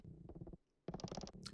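Full creaking door recording played slowly, heard as two bursts of low, grinding groans and knocks separated by a short quiet gap, moderately faint.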